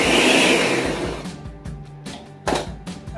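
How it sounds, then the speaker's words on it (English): A kitchen blender whirs loudly while blending okra for soup, then cuts into a series of short pulsed bursts separated by pauses. "The okra here, I'm just gonna put it in the blender."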